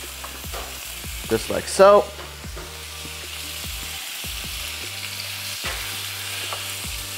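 A generous amount of butter sizzles steadily in a hot pan while queso fundido is cooked, with a few scraping stirs and a brief spoken phrase near the start.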